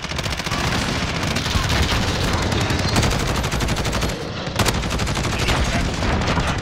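Grau 556 assault rifle fire in the Modern Warfare video game, sustained rapid automatic bursts rattling loud and close with only a brief pause, no voices heard.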